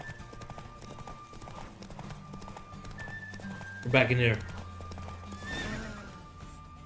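Rapid clip-clop of horse hooves at a gallop in The Witcher 3: Wild Hunt, with a loud neigh partway through and a person speaking briefly over it.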